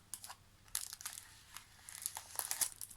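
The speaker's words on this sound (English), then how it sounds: "taking this deck out of the cellophane" Crisp crinkling and tearing of cellophane wrap being pulled off a new deck of playing cards, in quick bursts of crackle with short pauses, close and fairly quiet.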